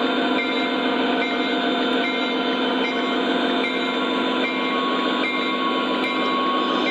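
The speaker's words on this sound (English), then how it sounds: "So Conahey Rail SD40 just drops off the remainder of what's left of the hopper train" O gauge model Conrail SD40 locomotive rolling with hopper cars, a loud steady rumble and rattle of wheels on track, continuous and close, with no voices.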